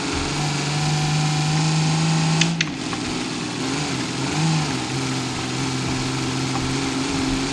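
A 2003 Dodge Ram 3500 truck engine in the BeamNG driving game holds a loud, continuous drone with pitch wavering as it revs, a brief click partway through.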